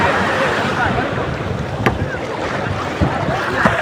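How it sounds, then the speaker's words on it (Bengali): Waves wash and roar steadily on the beach at Kuakata, Bangladesh, with gusty wind buffeting the microphone throughout. "দেখতেই পাচ্ছেন ঢেউ আসছে অনেক"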